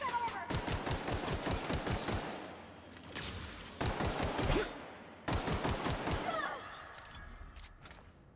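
Rapid automatic gunfire from The Outer Worlds video game, with loud dense bursts of shots, brief pauses between volleys and a final trailing burst.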